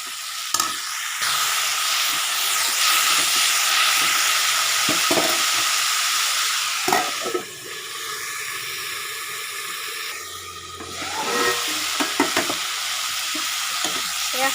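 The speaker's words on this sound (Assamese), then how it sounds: "এতিয়া এইখিনি ভাল ধৰণে লৰাই এখন ঢাকন লগাই এইখিনি সিজিবলৈ দিম।" Greens with garlic paste, turmeric, salt and tomato are stirred in a hot pan, giving a steady close sizzle and frying hiss with scraping stir strokes throughout.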